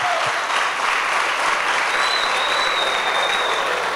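A church congregation breaks into sustained applause, a thick, even wash of clapping that stays at constant volume throughout the short stretch, with no voices standing out.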